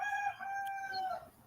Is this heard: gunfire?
no